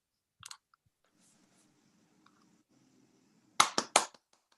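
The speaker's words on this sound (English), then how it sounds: "Let's clap for ourselves because we're the only ones who can hear us." Cast members applauding together over a Zoom call after a home theater performance, a short burst of clapping near the end following a quiet stretch with faint murmuring.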